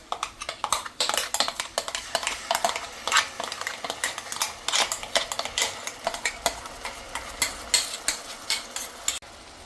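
Metal spoon scraping and clinking against a pan as a paste is stirred into browned onions for egg tikka masala, steady close clatter with faint sizzling underneath.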